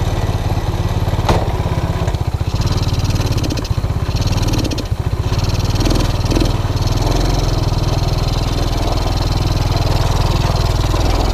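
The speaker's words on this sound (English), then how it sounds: "Well, that started easy enough." A TaoTao ATA 135D ATV engine runs steadily just after a cold start, a loud, close, continuous putter with a slight rough dip midway and no voice over it.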